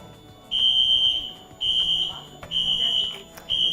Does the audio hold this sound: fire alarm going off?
yes